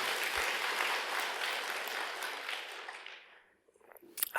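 Congregation applause at a Sunday Buddhist dharma service at Bulgwangsa temple, answering a Dongguk University professor's lecture: full, dense clapping that gradually tapers and dies out, followed by a brief pause and a faint stir of room sounds.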